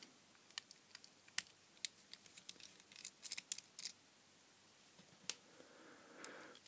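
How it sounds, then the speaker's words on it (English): Small screws are being unscrewed from an MR11 LED downlight lamp, giving a series of faint, sparse clicks and scrapes close by at an irregular rhythm, with no talk. "So there are some screws in here. I shall pop them out."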